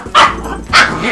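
A dog barks twice, loud and close, the sharp yaps roughly half a second apart. Low rumbling growls sit beneath and between them.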